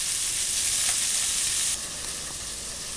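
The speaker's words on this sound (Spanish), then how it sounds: "Lo vamos a freír un ratito el pollo" Chicken pieces frying in hot grease in a pan for Apatzingán-style enchiladas, a steady loud sizzle and crackle alone throughout, easing slightly toward the end.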